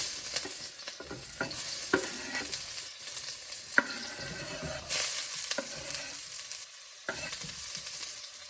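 Steady sizzle of finely chopped purple onion and garlic frying in a pan, broken by scraping stirs with a few sharp clicks and a louder burst midway, no voices.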